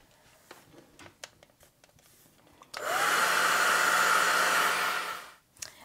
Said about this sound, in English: So I'm going to go ahead and dry this.